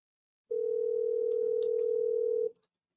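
Voicemail beep on a phone call: a single steady electronic tone held for about two seconds, clean and moderately loud, then silence.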